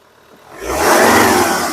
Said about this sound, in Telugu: ఒకసారి ఇంజన్ స్టార్ట్ చేయి సింగిల్ సెల్ఫ్లో కార్ స్టార్ట్ అయితే ఎటువంటి స్టార్టింగ్ ట్రబుల్ అయితే లేదండి